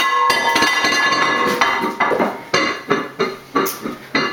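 A dish clatters onto a tile kitchen floor without breaking, a loud ringing crash followed by a series of quick, bouncing clinks that gradually settle.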